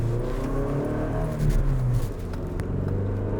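A 2009 Toyota Tacoma with the 2.7-liter engine accelerates, giving a steady, loud in-cabin engine drone that swells slightly midway and then settles, with no voices.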